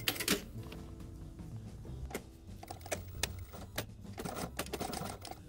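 A sewing machine stitches around the border of fabric face mask pieces, which are placed right sides together. It makes irregular bursts of mechanical clatter with sharp clicks and pauses, heard close up with no talking.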